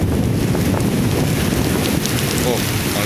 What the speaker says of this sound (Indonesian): Jakarta diguyur hujan dengan angin kencang.